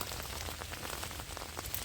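Rain falling in a German forest in winter, a steady soft patter of drops on leaves and surfaces, faint and continuous with no voices.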